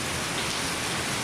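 Steady, close rain falls during a hike in Iowa, an even, dense patter of drops on surfaces with no pauses and no voices.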